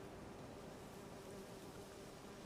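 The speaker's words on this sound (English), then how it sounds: "And now the bees are swarming him." Bees swarming from a disturbed beehive in the video game Witcher 3, a faint, continuous insect buzz with a steady droning tone and no speech.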